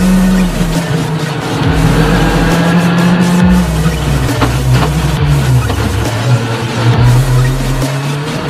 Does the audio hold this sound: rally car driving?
yes